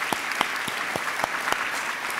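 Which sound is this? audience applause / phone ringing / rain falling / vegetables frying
audience applause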